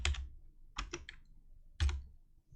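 Bursts of keystrokes as code is typed on a computer keyboard, with a few crisp clicks in quick clusters and quiet gaps between them, close and clear with no talking.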